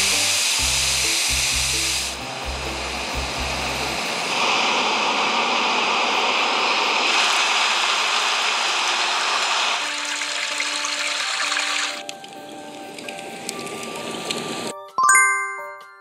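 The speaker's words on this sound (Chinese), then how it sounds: "那你长按就可以直接收听免费的白噪音" Background white-noise sounds from the iOS 18 Control Center play on an iPhone, shifting between steady hiss, rushing water-like noise and soft tonal chimes, ending with a brief clatter.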